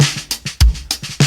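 Drum overheads run through a Level Loc drum bus plugin, crunchy but not heavily distorted, carry a quick, punchy groove of cymbal hits and a deep kick thump, close and loud with no talking.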